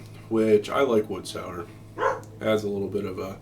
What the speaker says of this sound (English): That's just my dog barking.